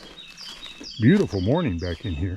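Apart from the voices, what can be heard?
bird singing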